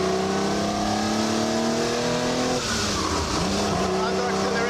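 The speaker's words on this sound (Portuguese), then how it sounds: "A aceleração é perfeita." A genuine 1960s Ferrari 250 accelerates hard, its engine note holding steady harmonic tones and then shifting as it revs on, loud and continuous, with someone narrating over it.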